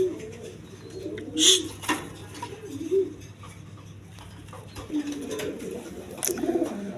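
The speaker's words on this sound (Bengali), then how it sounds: "তাছাড়া এখানে আছে এক পেয়ার বিউটি কবুতর" Beauty pigeons kept as a pair at a breeder's loft, their soft repeated coos rising and falling at close range, with a couple of brief flutters and faint background noise.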